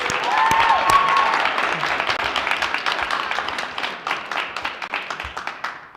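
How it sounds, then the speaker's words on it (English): At a special board meeting of Park Ridge-Niles School District 64 in Illinois, an audience applauds a student speaker with dense clapping that starts strong and thins to scattered claps, and a voice briefly speaks over it. "We certainly have to applaud our students speaking"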